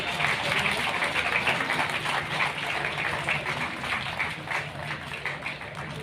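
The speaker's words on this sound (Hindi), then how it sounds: "तो जोरदार तालियां।" Steady applause from a crowd at a Women's Day award ceremony, dense clapping that holds evenly throughout without pause.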